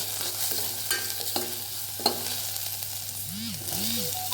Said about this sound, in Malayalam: അതിനുശേഷം ഇഞ്ചി നീളത്തിലരിഞ്ഞതും കൂടി ഇട്ട് കൊടുത്ത് കുറച്ച് സമയം വഴറ്റി കൊടുക്കുക